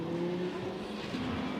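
Lamborghini Huracán Super Trofeo race cars lapping the Sepang circuit during a 2023 Asia series race, a steady close engine drone with a sustained tonal whine that shifts pitch partway through.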